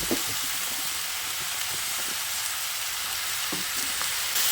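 Eggplant tossed in with frying greens and vegetables in a pan, giving a steady close sizzle and hiss with a few soft stirring scrapes, no talking.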